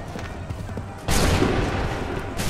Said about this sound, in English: Make ready. Fire now.